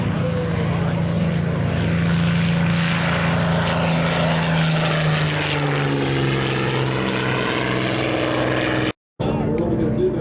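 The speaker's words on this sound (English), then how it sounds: "This is Spitfire." A Spitfire fighter flies past at a warbirds airshow in Wanaka, New Zealand, its loud propeller engine roaring and shifting in pitch as it passes close by, then cutting out abruptly near the end.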